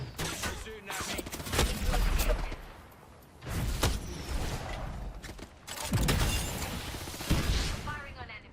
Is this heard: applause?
no